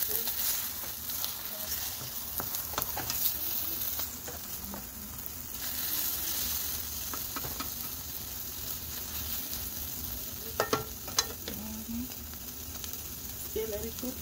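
Breakfast food sizzling and frying in a pan, a continuous crackling hiss throughout with occasional stirring scrapes and a few sharper pops near the end.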